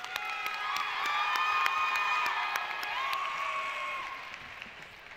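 A state convention crowd applauds sponsors and participating teams, with clapping mixed with cheering, whoops and high excited shouts, a sustained moderately loud roar from a large room.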